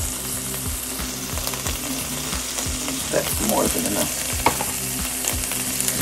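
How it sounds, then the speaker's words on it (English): Food sizzling and frying in a pan while a utensil scrapes and stirs in a regular rhythm; a voice speaks briefly partway through. "Move these around because they sound like they're getting to frying."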